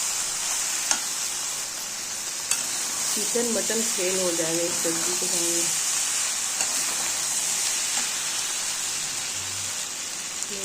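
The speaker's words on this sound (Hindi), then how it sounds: "ये सब्जी भुना देंगे" Jackfruit curry with chili powder, salt, bay leaf and turmeric is fried and stirred in a pressure cooker. A steady, close sizzle runs throughout with occasional stirring scrapes, and a person speaks briefly partway through.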